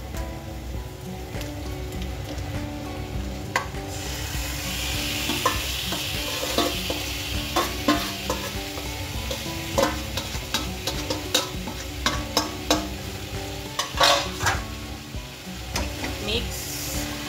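Chicken fries in a pan, spoon scraping and stirring it over a steady loud sizzle, with sharp clinks and scrapes coming more often toward the end.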